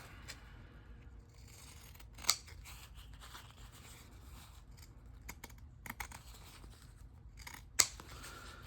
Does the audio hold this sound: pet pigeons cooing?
no